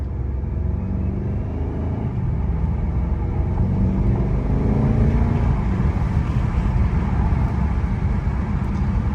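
A BMW M550i's engine rumbles steadily and loudly throughout, a deep continuous drone with a slight swell near the middle as it downshifts, with no talking.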